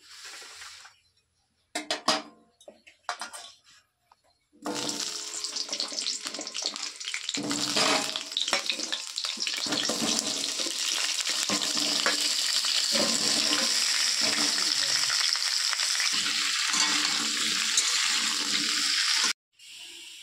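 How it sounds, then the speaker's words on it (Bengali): Potatoes fry in mustard oil in a wok, a dense continuous sizzle that starts abruptly after a few quiet moments with small clatters, holds steady and loud, then cuts off near the end. "এবার আমি তেল দিয়ে আলুটা ভেজে নেবো"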